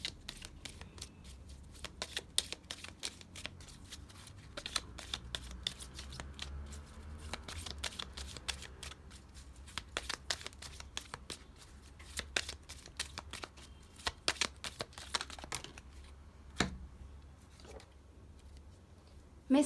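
Spell cards shuffled by hand for a card reading, a long run of crisp riffling snaps and soft slides close to the mic, steady and quiet with no talk.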